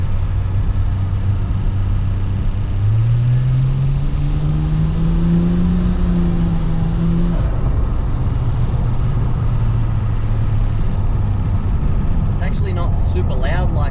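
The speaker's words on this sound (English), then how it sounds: "It's got a really good flutter to it now that I got rid of the blow-off valve." Toyota Crown JZS171 with an automatic gearbox and the blow-off valve removed, driving with a loud, steady engine note that rises in pitch and then eases off, with intake flutter under continuous road and wind noise.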